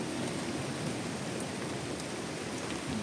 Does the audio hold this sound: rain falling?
yes